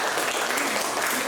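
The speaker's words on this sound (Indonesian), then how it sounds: "diberikan aplaus untuk teman kalian" A classroom breaks into a short burst of applause for a student, with dense, close clapping that fills the whole moment.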